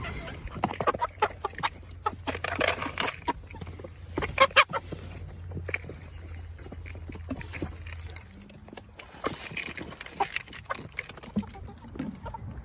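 Chickens cluck and murmur nearby in busy, overlapping bursts while eating thick feed, with scattered pecking and rustling noises throughout.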